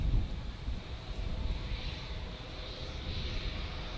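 Airliner on final approach at Manchester Airport, heard as a faint, distant engine drone mixed with wind buffeting the microphone.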